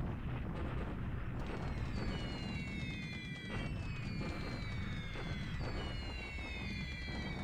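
Bombing explosions in a WWII Pacific strategy video game, heard as a dense, constant rumble of blasts and crackling booms with whistling falling tones layered over it, playing faintly and continuously without speech.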